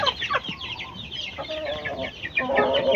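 Hens in their coop cluck in short, repeated bursts close by, several birds overlapping in a busy, uneven rhythm.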